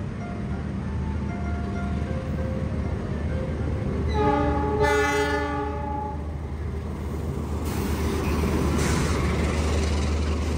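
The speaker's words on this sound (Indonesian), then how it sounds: "lalu lalang KRL yang tiap 5 menit itu rame banget" A commuter electric train rumbles steadily nearby through Gambir station, and a sustained horn sounds midway before the rolling noise continues.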